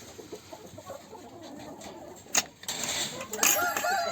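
Chickens clucking sporadically in an unheated henhouse where some hens are moulting, soft scattered calls with a few sharper sounds near the end, at close range.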